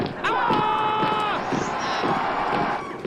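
A crowd in the Air Bud movie, played from a VHS tape, cheers and roars steadily for about three seconds, with a sustained whistle-like tone riding over the dense noise.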